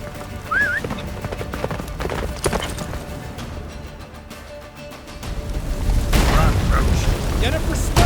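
The horse Roach gallops in The Witcher 3, steady hoofbeats driving on under wind and rising rumble, with a neigh-like cry early and a voice speaking over the ride.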